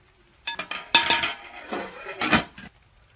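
A spoon scrapes and clinks against a pan as grated coconut is stirred into beans for a Kerala-style thoran, in several short clattering bursts with a longer scrape near the end and no voices.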